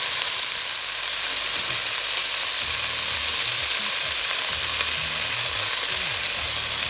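Green beans and sugar snap peas frying with curry powder seasoning in a pan, a steady close sizzle running throughout with soft stirring and scraping sounds, no talking.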